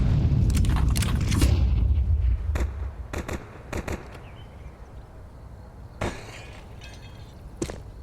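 Grenade detonating in Counter-Strike, a heavy booming blast right at the start that rumbles away, followed by scattered sharp gunshots and clicks from the match.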